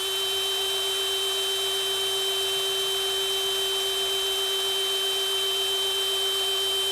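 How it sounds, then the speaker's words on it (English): A shop drill motor runs continuously at an even pitch around 900 RPM, a steady whine with hum, close by and unchanging throughout. "the drill motor sounds like it's being fairly consistent"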